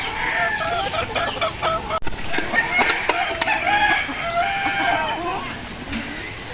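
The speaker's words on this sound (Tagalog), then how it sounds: "Yun yung nagpapakain ng manok." Gilmore Hatch chickens being fed in a farmyard, with roosters crowing and hens clucking repeatedly, near and fairly loud, while a person talks in the background.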